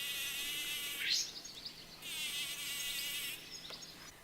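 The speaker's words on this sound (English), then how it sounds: "And here's a tree bumblebee buzzing to release pollen from comfrey." A tree bumblebee sonicates comfrey flowers to shake loose pollen, giving sharp high buzzing bursts in two main stretches with a brief pause between, close and clear over quiet garden background.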